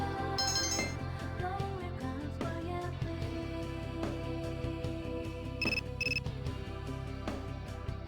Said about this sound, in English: You receive a text message